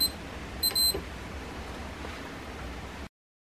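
Alarm of a Yeslamp EVO adjustable LED desk lamp: a short high electronic beep, then a quick double beep, over soft hiss before the sound cuts to silence.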